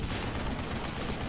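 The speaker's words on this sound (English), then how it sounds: "So, the artillery firing back and forth." Artillery fires back and forth in a video game, heard as a short, dense burst of booming, rumbling blasts.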